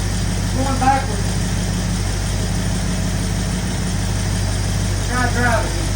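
A 1964 Ford Fairlane Thunderbolt clone's engine idles steadily with a low, even rumble while the transmission is tested, close and constant, with brief voices talking over it near the start and end.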